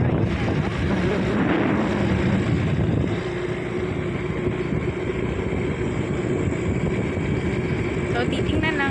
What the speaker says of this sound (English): So, I'm driving right now.